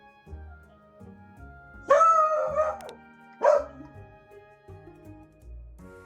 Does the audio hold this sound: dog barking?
yes